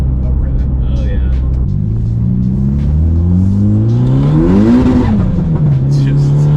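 Mitsubishi Evo X with a straight pipe exhaust, loud and close, rumbling deep then climbing in pitch through a rev and settling back, with people talking over it.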